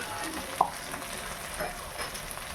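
Chicken frying in a pan with ginger paste, garlic paste, turmeric, chili, cumin and coriander powders, stirred with a soft scrape and a faint steady sizzle, one sharper clink early on.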